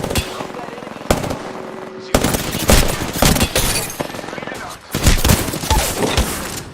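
Gunfire in a video game, loud bursts of automatic fire in repeated volleys separated by short pauses, with a voice talking faintly underneath.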